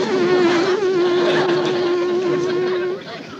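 A voice imitates buzzing bees with a steady, nasal, sustained hum held for about three seconds, loud and close.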